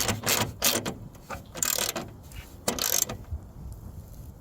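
Stainless bolts on a Rhino Pioneer platform rack being tightened down by hand with a ratchet, several bursts of close, crisp clicking separated by short pauses.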